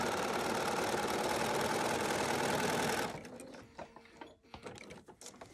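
A sewing machine stitches across a quilt block with a fast, even whir for about three seconds, then stops, leaving faint handling sounds.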